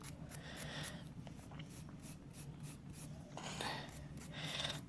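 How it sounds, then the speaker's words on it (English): Nail file shaping a wrapped fingernail: soft, quick back-and-forth rasping strokes, close and faint, repeating in a steady rhythm with a couple of slightly louder passes toward the end. "Filing my nail to the shape I want, all in one step."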